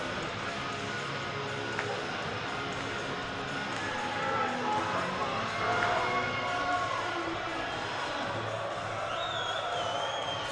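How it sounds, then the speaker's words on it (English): A college hockey crowd with a full student section, steady far-off roar and murmur of spectators filling the arena beneath a commentator talking, swelling slightly midway. "A good crowd, and the student section is full."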